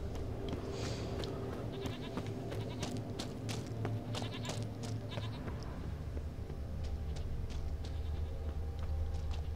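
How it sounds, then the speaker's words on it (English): Several goats or sheep bleat repeatedly in The Witcher 3, their cries layered over a steady game ambience with a continuous low background hum. "There's a shitload of goats. Or sheep, one of the two."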